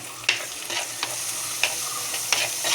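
Curry leaves frying and being stirred in a pan: a steady crackling sizzle broken by several sharp scraping stirs, close and fairly loud, with no voices.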